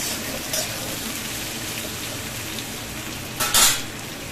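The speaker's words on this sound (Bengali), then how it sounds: "আলুটা একদম লাল লাল করে ভাজতে হবে" Potatoes fry in a pan of oil, giving a steady, even sizzle that runs throughout, with two brief clinks of a utensil against the pan.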